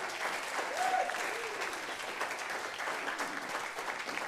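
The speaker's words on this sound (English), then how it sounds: "Give them a round of applause." Crowd applause at a comedy club show rises for Army veterans in the room, a moderately distant, even wash of clapping that carries on steadily with a few faint voices mixed in.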